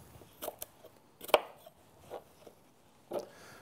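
Knife cutting through a pear for a smoothie lands in a few sharp, isolated chops and taps on a board, spaced irregularly and close-up with no speech.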